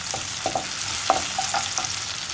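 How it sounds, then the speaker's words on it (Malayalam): Ginger frying in a pan for a coconut chutney, stirred with a spoon: a constant close sizzle broken by light, irregular scraping taps of the utensil against the pan. "ഇഞ്ചി ചേർത്തിട്ട് ഒന്ന് ഇളക്കി ഇഞ്ചി ഒന്ന് ചൂടായി വരണം."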